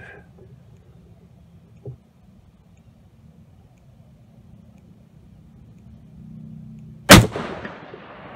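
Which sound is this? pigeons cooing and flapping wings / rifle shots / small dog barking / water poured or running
rifle shots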